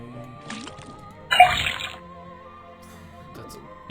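A brief burst of liquid pouring from a faucet into a cauldron in the Detective Grimoire point-and-click video game, a short splashing rush over a quiet background hum.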